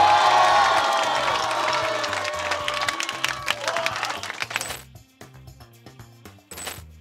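Loud crowd applause and cheering at a drum battle competition fill the opening seconds over a thumping backing beat, then fade into scattered clapping and drum hits as the next round begins.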